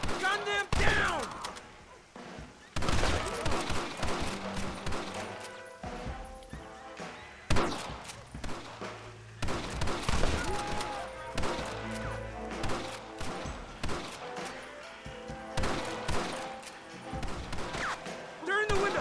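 Red Dead Redemption shootout with a heavy, uneven volley of gunshots, sharp cracks clustering in bursts and scattered single shots over about nineteen seconds, with game voices shouting between them.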